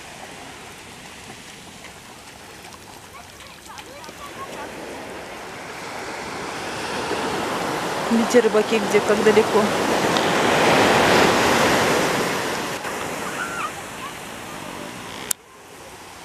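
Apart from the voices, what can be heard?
sea waves breaking on Spanish shore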